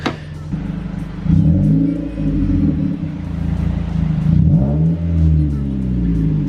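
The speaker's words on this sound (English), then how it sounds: "Let's go deal with the Mazda 3 and go give it a little rev." A Mazda 3 engine with an aftermarket horn setup idles and then gets light revs, rising and falling twice in a close, rumbling swell, with a voice talking over it.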